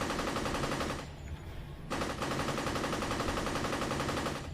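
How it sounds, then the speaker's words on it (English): Assault rifle fire in the video game Champions Online, rapid sustained automatic bursts with a brief pause near the middle, loud and continuous throughout, no talking. "And we go with the assault rifle."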